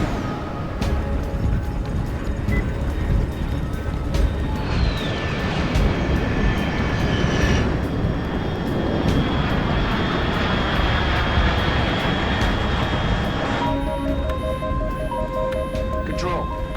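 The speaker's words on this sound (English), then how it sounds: "Control, unidentified aircraft detected." Aircraft engine roar in the stealth action game Metal Gear Solid Delta: Snake Eater, a loud continuous drone sustained throughout with shifting whines and tones layered on top, alongside other game sounds.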